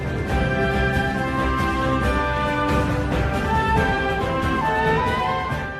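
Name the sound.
Music from video game Super Mario Odyssey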